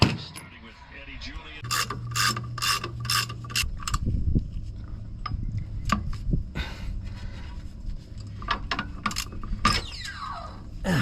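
A ratchet wrench loosens a 22mm track bar bolt during a MetalCloak 3.5-inch front lift install on a Jeep, with rapid rhythmic clicking bursts close by, followed by metallic scrapes and rattles.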